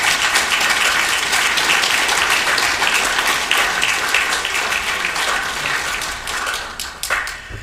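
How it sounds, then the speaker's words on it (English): Sustained applause from an audience at a live-streamed gathering, dense and steady clapping throughout before tapering off slightly near the end. "we applaud you and all the others"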